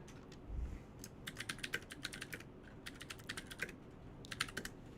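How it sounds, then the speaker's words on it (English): Rapid clacking keystrokes on a loud computer keyboard come in quick bursts separated by short pauses, close and crisp against a faint background hum, with no talking. "enjoy the sounds of my loud keyboard"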